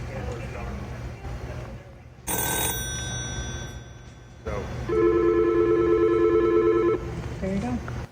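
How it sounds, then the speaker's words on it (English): An old telephone system rings with a steady electronic trill lasting about two seconds, preceded by a brief higher tone burst, while someone talks before and after over a low background hum. "came in through the first phone, very old phone system. You can hear the old ring."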